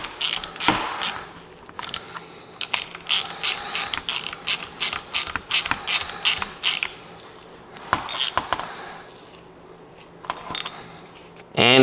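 A ratchet clicks in quick repeated bursts while tightening grade 8 bolts with new lock washers on a Datsun 520 oil pump housing, close and crisp with brief pauses between runs of strokes.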